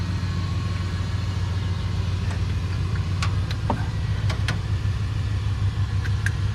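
A 1984 Chevy truck engine, revived after two years dead, runs at a steady low rumble with a few light ticks and clicks over the top, continuous throughout and fairly close.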